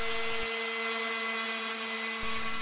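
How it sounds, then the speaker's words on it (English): A power sander works across the wooden top of a stool made from scrap wood, giving a steady, close whirring hum that continues unbroken through the whole stretch. "Sand the top of your stool, starting with a coarse grit and then working down to a fine grit."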